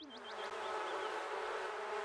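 Bees in The Sims buzz loudly and steadily throughout, a dense insect drone with a few short rising chirps early on.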